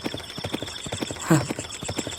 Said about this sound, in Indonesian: lamat-lamat didengarnya derap kuda di belakangnya